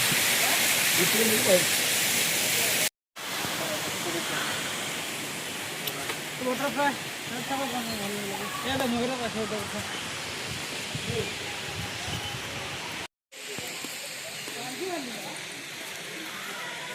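Waterfall water pouring steadily at a park near a shrine in Odisha, a constant broadband rush with a brief cut, while someone talks over it.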